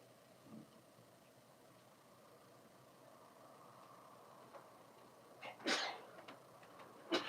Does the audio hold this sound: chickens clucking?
no